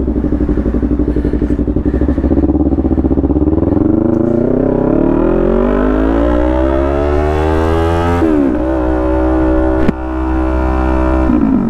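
A sport motorcycle engine winds up in a long, rising howl of acceleration, pitch sweeping steadily upward before a gear shift and another climb, loud and close with no talking.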